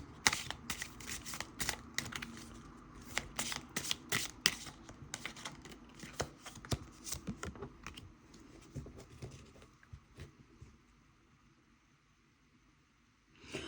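Tarot cards being shuffled by hand, a run of quick riffling slaps and papery flutters in irregular bursts that thin out and fade toward the end, close and fairly quiet.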